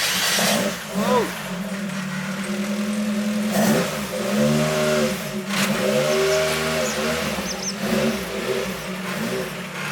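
Toyota AE86 Trueno engine revving as the car drives out of a garage, a close, loud mid-pitched growl rising and falling through several throttle blips, with people talking over it.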